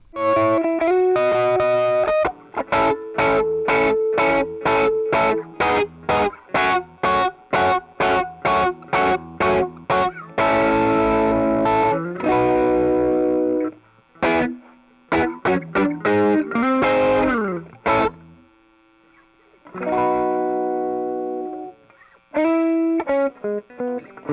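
A bass guitar through a Warm Audio WA12 preamp with its tone switch on plays a rhythmic run of repeated plucked notes with a bright, slightly driven tone, pausing briefly before more phrases.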